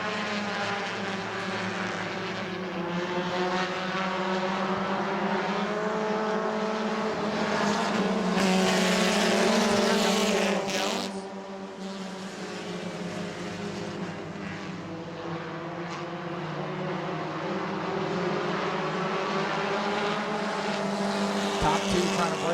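Race cars thunder around the New Smyrna track at a weekly racing event, a loud sustained engine roar with shifting pitch as the pack passes, under a commentator's voice.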